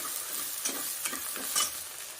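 Garlic, green chilies and curry leaves sauté in a pan with a continuous sizzle and repeated stirring scrapes, close and moderately loud, no voices.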